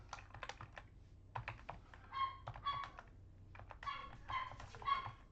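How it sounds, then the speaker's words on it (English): Several dogs bark faintly in the background during a replay of a 2006 San Diego Chargers vs Buffalo Bills football game, short scattered yaps behind close, steady computer keyboard typing. "You can hear the dogs barking in the background"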